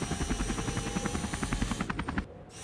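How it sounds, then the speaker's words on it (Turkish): Mini helicopter in the video game Henry Stickmin, a fast rhythmic rotor chop that pulses steadily, then cuts off abruptly near the end. "Tamam mini helikopteri kullanayım."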